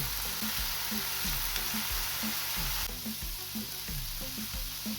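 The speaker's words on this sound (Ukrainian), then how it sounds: "Підсмажуємо морковку до готовності." Carrots sizzle and fry in a pan with onion, a steady close crackling hiss with low tonal hum underneath, continuous for the whole stretch with no talking.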